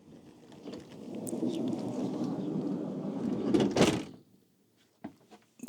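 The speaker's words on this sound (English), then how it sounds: "just close all the doors" Camper van doors being shut one after another, a long rumbling slide building to a loud thud near the end, then a few shorter knocks after a brief quiet.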